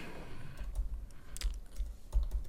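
Code is typed on a computer keyboard in quick, uneven bursts of soft clicks and taps, close to the microphone and fairly quiet, with no voice.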